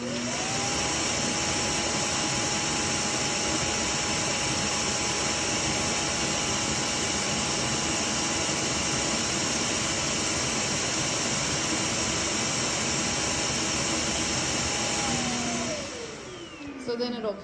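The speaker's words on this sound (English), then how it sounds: "is when it self-empties into the trash can" A eufy L60 robot vacuum self-empties into its base with a loud, steady motor roar and a sustained whine that holds for about fifteen seconds, then winds down and drops away at the end.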